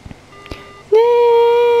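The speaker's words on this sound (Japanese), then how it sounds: "突然電話が切れてしまった。" A phone call in the Japanese horror game Shiin cuts off abruptly: after faint static and quiet murmurs, a loud steady electronic tone bursts in and holds without a break.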